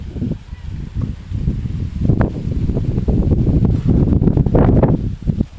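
Cold, strong wind blowing across a farm during a storm, gusting buffets and rustling that rise and fall close to the microphone.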